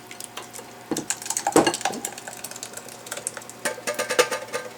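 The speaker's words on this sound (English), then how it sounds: "let's get it in the bowl, hopefully without making a mess" Salsa scraped from a container into a bowl, with a run of close, clattering scrapes and knocks of a utensil against the dish, ending in a quick flurry of light taps.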